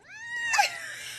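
A domestic cat lets out one drawn-out, strained meow that breaks into a rough, wheezy cry midway and then fades, heard close and alone.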